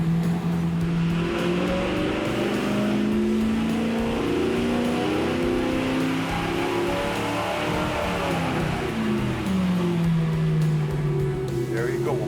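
An engine on a dynamometer at operating temperature makes a steady, loud full-throttle pull, its tone shifting and rising as the run goes on, with people talking over it.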